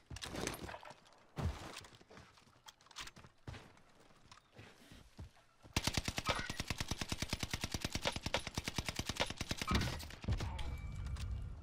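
Sustained automatic fire from a Whitley assault rifle in Warzone, shot through a wall: a rapid, steady burst of loud cracks lasting several seconds, preceded by scattered single shots, footsteps and other game noises.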